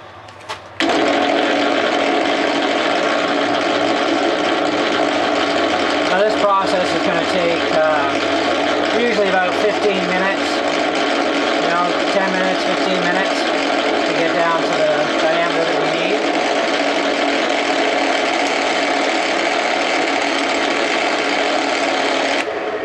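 Copper round bar turning on a lathe at about 350 RPM, a steady whirring machine drone with tonal cutting whine and scraping that runs the whole time, someone talking over it.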